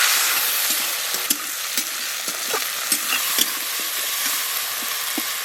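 Tomatoes fry with onions and panch phoron in a pan for a Santali-style fish curry, giving a steady sizzle broken by scattered sharp stirring clicks and scrapes, close by, with no talk.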